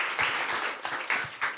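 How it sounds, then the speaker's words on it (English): A conference audience applauds, a light scattering of hand claps at a steady pace, fairly faint and somewhat distant, with no clear talk over it. "Applause, please."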